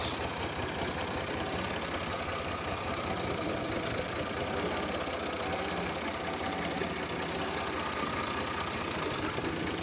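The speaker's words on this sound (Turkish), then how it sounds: "şimdi motorumuza bindik gidiyoruz" A motorcycle engine running while being ridden, a steady, close, continuous rumbling drone without pauses.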